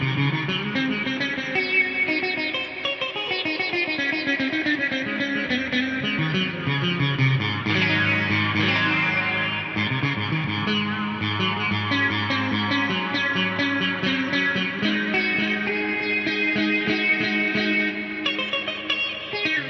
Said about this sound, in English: It's a Danelectro Sitar. That's got the mute bridge, it's got the drone strings, and it sounds really cool with lots of delay and reverb.